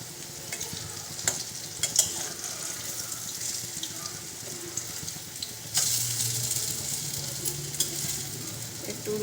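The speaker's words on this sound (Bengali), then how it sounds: "সবগুলো ভেজে নেবো আমি।" Slices of green banana fry in a pan of oil, a steady crackling sizzle with occasional stirring clinks, growing louder and denser partway through.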